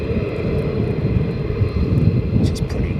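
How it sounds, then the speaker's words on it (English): The auxiliary power unit of an F-15 Strike Eagle at RAF Lakenheath vents hot gas behind the cockpit as a steady, close, rushing roar with a constant high whine running underneath. "The vent behind the cockpit is the APU, Stephen Billings."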